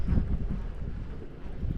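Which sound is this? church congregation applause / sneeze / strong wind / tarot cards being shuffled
strong wind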